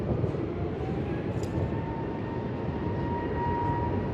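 A brand-new Jetstar A321 airliner at Melbourne Airport, a broad, steady jet engine rumble with a faint rising whine, heard from a distance without a break.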